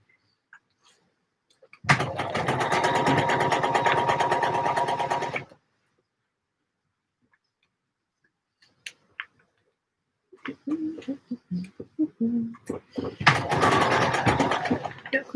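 A sewing machine joins pouf pieces in a loud, close run of about three and a half seconds. After a pause it starts again in short stuttering bursts that build into another steady run, with fabric handling noises between.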